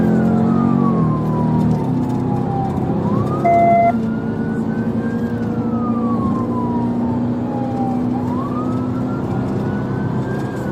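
Police car siren wailing in Chicago, a loud, continuous rising and falling tone sweeping slowly and repeatedly over steady engine and road rumble, with a short higher beep partway through.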